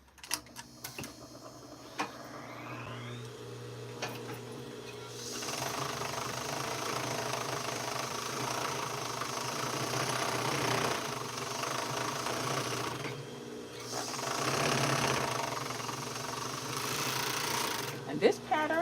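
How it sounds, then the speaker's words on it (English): A serger overlocks the sleeve seams of a Simplicity 8059 duster, running in a steady, moderately loud hum with ticking texture for long stretches and brief pauses, while a person talks over it at times. "Let's serge these sleeves."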